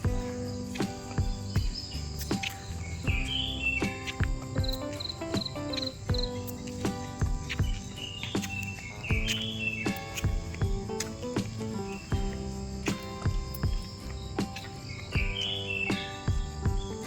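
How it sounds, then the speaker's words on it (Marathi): Crickets chirp steadily amid greenery near Kelwa Beach while birds call repeatedly over them, a dense outdoor chorus of rhythmic insect trills and bright intermittent whistles. "आणि पक्ष्यांचा आवाज ऐका,"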